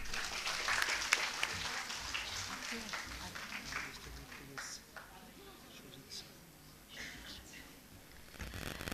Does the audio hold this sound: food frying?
no